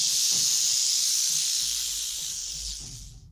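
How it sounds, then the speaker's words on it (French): A nest of rattlesnakes gives off a loud, close, continuous hiss that holds steady for several seconds before easing slightly, with no voices present. "se retrouve bientôt à survoler un nid de serpents à sonnette"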